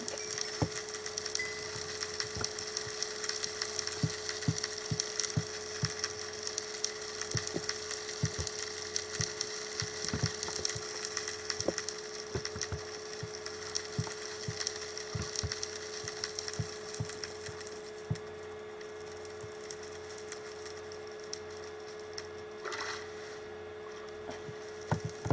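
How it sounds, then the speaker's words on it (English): Fire burning in Minecraft, a steady crackling hiss with scattered sharp pops and snaps running throughout, fairly loud and constant, with no talking over it. "I hear something burning."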